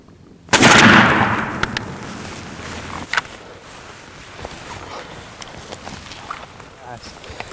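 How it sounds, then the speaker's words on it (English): A shotgun fires a turkey hunting shell outdoors: one loud, sharp blast with a fading echo, followed a few seconds later by a smaller pop and quieter handling noise. "this is the round that I want to shoot through my gun"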